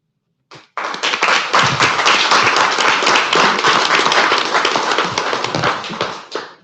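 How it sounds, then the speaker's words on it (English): Audience clapping at a city council meeting, starting abruptly after a single clap and continuing as close, steady applause for about six seconds before stopping suddenly. "Feels a little weird to be clapping for yourself"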